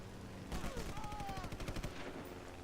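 A German machine gun fires in the WWII shooter Sniper Elite, a rapid rattling burst of close, evenly spaced shots lasting about two seconds.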